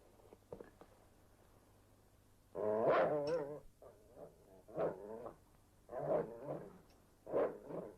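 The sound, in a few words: dog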